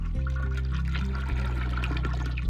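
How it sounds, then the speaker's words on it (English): A toilet flushing in the PC adventure game Ben Jordan: Paranormal Investigator, a steady loud rush of water and gurgle lasting the whole moment, alone without talk, under a low droning tone. "You flush the toilet."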